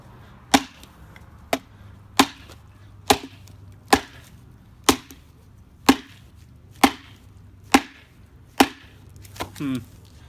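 A TOPS C.U.T 4.0 knife chops into wood with sharp, loud strikes about once a second, ten in a row at a steady rhythm, followed by a short scraping rattle.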